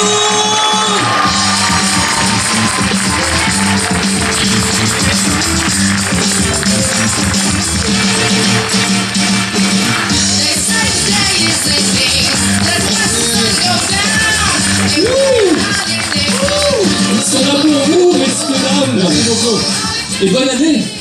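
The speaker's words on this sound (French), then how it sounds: "un tonnerre d'applaudissements pour monsieur Danny Moore" An audience at a film premiere of Le Lion, attended by Dany Boon, applauds and cheers. A loud, continuous roar of clapping lasts about twenty seconds, with whoops and shouting voices rising through the crowd.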